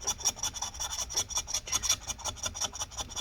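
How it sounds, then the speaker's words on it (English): A metal pry tool scrapes battery adhesive residue inside a 13-inch MacBook Pro A1708, giving close, steady rasping strokes in a quick repeating rhythm. "I'm going to just use my metal tool and slowly scrape it all"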